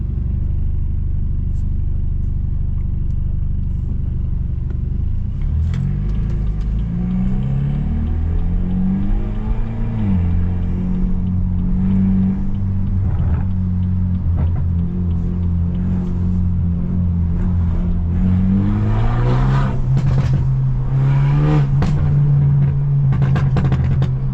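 Modified BMW F30 engine droning and revving from inside the car during aggressive driving, a steady rumble that climbs through rising and falling engine tones, then swells louder with crackling toward the end.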